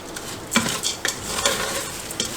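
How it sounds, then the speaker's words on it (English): Turmeric being stirred into a pot of oil-free khichdi of rice, lentils and vegetables: a few loud, close scraping strokes of a spoon against the pot over a faint sizzle. "Just stir it around and that's about it."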